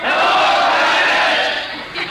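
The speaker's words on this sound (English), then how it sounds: "listen to that crowd" Crowd at a USC college football game roars in a loud, sustained wash of cheering and shouting, filling the space steadily before easing slightly near the end.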